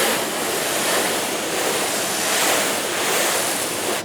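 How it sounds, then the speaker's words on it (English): Water sprays hard onto a car panel during a rinse, a dense continuous hiss and splash that swells slightly midway, loud and close, with no voices. "I'm going to get the panel wet, just like if you were washing your car and you're rinsing it off now."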